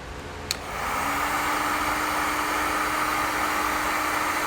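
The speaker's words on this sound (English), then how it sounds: "I'm going to take my heat gun and seal up the ends." A heat gun blows with a steady, broad whooshing hiss, close and constant, after a brief click as it switches on, used to seal a heat-shrink butt connector on trailer brake wiring.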